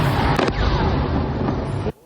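Heavy explosion at Iran's Bandar Abbas port after a US military strike: a loud deep boom rolls on for about two seconds, then cuts off abruptly.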